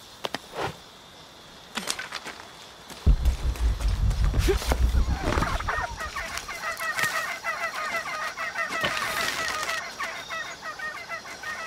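Turkey gobbling in Shadow of the Tomb Raider, a burst of rapid warbling calls partway through, set against game ambience with scattered clicks and background noise.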